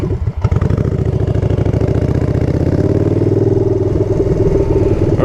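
Motorcycle with a loud exhaust idling up close, a heavy rapid low pulsing throb that holds steady throughout, preceded by a brief blip, with no one talking.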